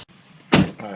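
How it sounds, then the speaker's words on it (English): A single sharp click as an electrical connector is pushed back onto the idle air control valve of a 1999-2004 Jeep Grand Cherokee WJ, close and fairly loud, with a short rustle of handling after it in a quiet garage. "And plug it back in until you hear the click."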